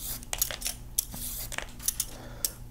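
Quick scraping strokes of a Titan multi-blade julienne peeler drawn down a carrot, a series of short crisp rasps and light metallic clicks, close and quiet.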